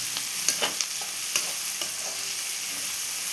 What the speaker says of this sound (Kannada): ಟೊಮ್ಯಾಟೊ ಹಾಕ್ಕೊಂಡು ಒಂದು 2 ನಿಮಿಷ ಚೆನ್ನಾಗಿ ಮಿಕ್ಸ್ ಮಾಡ್ಕೊಳ್ಳಿ